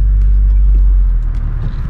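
A 9th gen Honda Civic Si cruising through town, its engine a steady close low rumble that eases off slightly toward the end.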